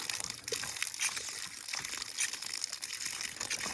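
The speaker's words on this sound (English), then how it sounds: "Hand pump water right there, people." Water from a hand pump drawing from a 100-foot well gushes and splashes in uneven surges, close and moderately loud, with no talk.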